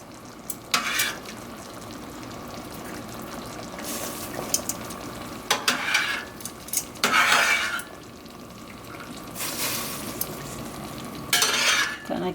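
Vegan scallops finishing in sauce in a pan: a steady low simmering sizzle broken by several bursts of scraping and stirring, with utensil clatter against the cookware.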